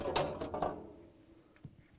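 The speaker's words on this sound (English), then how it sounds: "Pull out the ice bucket." An ice bucket slides out of an LG/Kenmore freezer in a few quick scraping, rattling bursts, followed by a faint knock as it comes free. The sound is near and moderately loud, then fades to near quiet.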